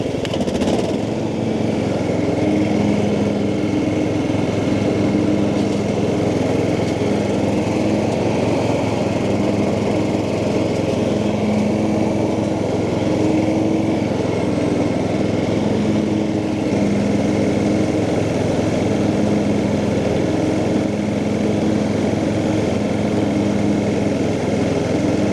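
A Cub Cadet ride-on lawn mower mows in reverse with a steady, loud engine drone and blade hum that runs unbroken and close throughout.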